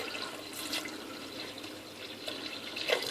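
Water pours into a big pan of forest fruits, a steady, moderately quiet splashing rush of liquid running for a few seconds without pause.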